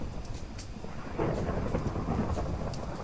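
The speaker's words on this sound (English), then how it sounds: "Hello, Thunderstorm that's not Thaumcraft related." A thunderstorm in modded Minecraft: rain hisses steadily while a deep rolling rumble of thunder swells midway and lingers, with no voices over it.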